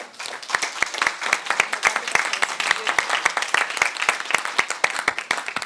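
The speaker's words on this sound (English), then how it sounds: "I would ask a round of applause to our panelists" An audience at a conference panel session applauds steadily, many hands clapping in a dense, even patter that holds for several seconds.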